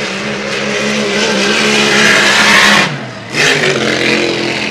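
A racing hydroplane engine screams at full throttle during Grand Prix time trials at Valleyfield, a loud sustained roar that briefly drops off near the end before surging back hard.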